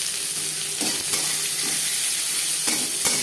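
Chopped onions frying in oil with cumin seeds and bay leaf: a steady, close sizzle and hiss throughout, with a few stirring scrapes in the pan.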